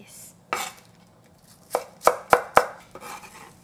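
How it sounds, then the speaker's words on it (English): A knife slices four green onions diagonally and thin on a cutting board, giving a handful of sharp, close chops, three of them in quick succession, with quiet pauses between. "And this is green onion, 4 green onion. Just slice. Slice diagonally, thin."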